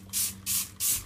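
Three quick spritzes of CLR bath and kitchen cleaner from a spray bottle aimed at a bathtub faucet with soap scum and lime buildup. Each is a short, close hiss, evenly spaced.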